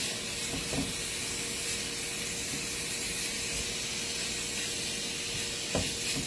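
Steak sizzling in a hot cast iron skillet with a little olive oil, a steady loud hiss that carries throughout with a couple of faint knocks, no speech.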